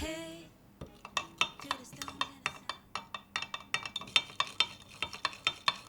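A spoon stirs granulated Japanese dashi into water in a bowl, clinking quickly and rhythmically against the sides for several seconds, close and fairly quiet, with no talking.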